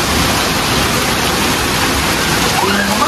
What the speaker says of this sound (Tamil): பாருங்கள் ஃபுல்லாக எப்படி பெய்யுது மழை